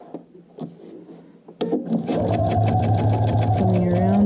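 A sewing machine runs a back stitch around a curve on a Clematis bag body, starting after a few light clicks and handling noises, then whirring steadily and close for the rest of the clip.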